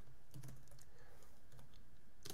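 Soft clicks of a computer keyboard as code is typed, in brief irregular clusters of keystrokes, quiet and close with no talking.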